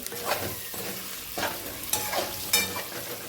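Fish masala curry roasting in oil, a close crackling sizzle punctuated by four or five distinct scraping stirs of a spatula across the pan, with no voices.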